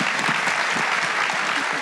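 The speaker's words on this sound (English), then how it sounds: "So let's give a round of applause, because that was a bomb." Studio audience applauding after a guest's performance: dense, steady clapping from a crowd, fairly loud and sustained for the whole stretch, with no talking over it.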